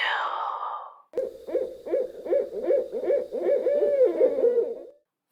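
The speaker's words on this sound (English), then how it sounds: "From far off in the woods came the sound of an answering owl, like an echo." Owl hoots in a run of about eight rhythmic, breathy calls, close and clear, preceded by a brief breathy sound, in a quiet wooded setting.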